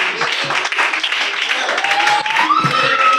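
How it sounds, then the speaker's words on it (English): Audience applause at a school drug awareness event, a steady dense wash of clapping lasting throughout, with a tonal whistle-like sound rising near the end. "Great applause for listening."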